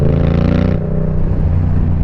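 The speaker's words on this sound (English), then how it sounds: "I think the exhaust is so loud that I just can't hear the intake" Yamaha MT-07 motorcycle with a loud aftermarket exhaust, heard up close as a continuous deep, rumbling engine roar that eases off from higher revs into a steady lower drone.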